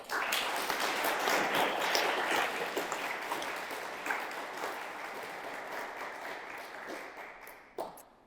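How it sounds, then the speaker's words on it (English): Applause from a conference audience after a talk on Apple II RPG development at KansasFest, a burst of dense clapping that rises quickly and then slowly thins, with one last sharp clap near the end. "I appreciate all of your complimentary applause"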